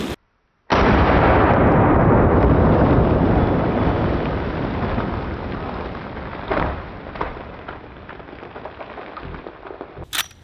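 A Mare's Leg lever-action gun fires a single loud, booming shot at a zombie head target, and the blast rolls off into a long, fading outdoor echo.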